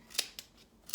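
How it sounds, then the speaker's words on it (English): Scissors snip through pom pom yarn wound around cardboard in three quick, crisp cuts, close and isolated in a quiet room. "with your scissors, you just cut round the middle"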